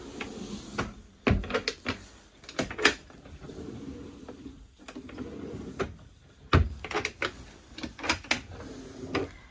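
Several wooden soft-close drawers in a 2025 Adria Matrix Supreme 670 DL motorhome slide open and shut with soft thumps and clicks, spread irregularly through a quiet room.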